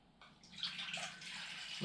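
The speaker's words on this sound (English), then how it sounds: "This one I'm going to be a little bit more liberal with the water." Water trickles and splashes quietly into bread dough, a soft pour that grows steadily over under two seconds and ends with a brief louder splash.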